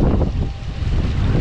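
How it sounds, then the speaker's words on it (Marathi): Strong wind blows at the reverse waterfall on Jivdhan fort, a loud, continuous rumbling roar buffeting the microphone with constant low gusts and no speech. "बघा हे पाणी खाली जातच नाही आहे"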